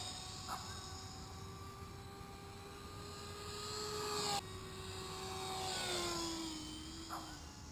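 A control line model BAE Hawk jet buzzes around in circles, its steady high-pitched engine whine rising and falling in a regular sweep as it passes near and far, with a couple of faint clicks.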